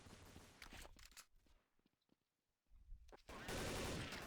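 Bursts of automatic gunfire in a Counter-Strike Source match, with rapid shots early on, a quieter lull with scattered clicks and steps, then loud sustained firing toward the end.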